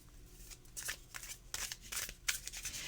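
Someone shuffles a chunky Zombie Tarot deck by hand, a quiet close-up run of papery riffles and slaps that continues steadily with no talking.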